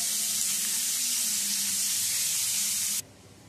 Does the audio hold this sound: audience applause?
no